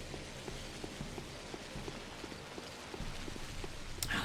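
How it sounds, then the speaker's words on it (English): Rain in the video game Pathologic falls on leaves on an empty street, a soft, faint and even patter with scattered small drops and a brief brighter tap near the end. "Did a good job in the sound effect of the rain, too. It sounds like rain hitting leaves."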